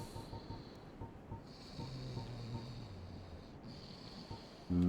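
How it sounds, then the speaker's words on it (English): A character snores softly in the Dark Souls video game, a faint, slow, droning breath that rises and falls quietly under low ambient hum, ending in a sudden louder thump. "You just hear her snoring."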